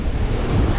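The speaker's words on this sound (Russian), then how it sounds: "Здесь волны достают до здания." Storm waves crash and surge against a Crimean seafront as waves reach the buildings, mixed with strong wind buffeting the microphone in a constant heavy low roar.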